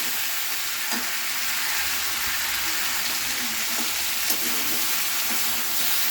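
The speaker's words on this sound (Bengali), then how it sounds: "এইভাবে নাড়িয়ে নিতে হবে বারবার ধরে" Cauliflower and potato curry with green chillies frying in a pan, a continuous close sizzle with faint scraping knocks as the mixture is stirred over and over.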